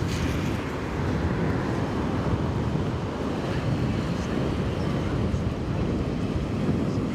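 Wind blowing hard on a bridge in Rotterdam, a steady loud roar buffeting the microphone throughout with no pauses.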